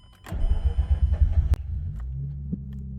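A car engine is started with a key: a brief whirring crank close by catches and settles into a steady low idle rumble.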